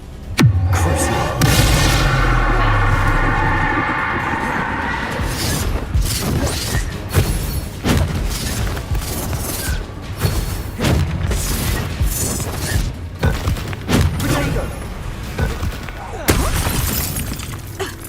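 Bombarda explosive spell in the Hogwarts Legacy game, a deep booming blast opening a long run of cracking, shattering impacts and repeated thuds through a chaotic battle, with voices at times.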